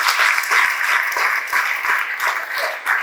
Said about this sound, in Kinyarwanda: Wayikomera amashyi cyane.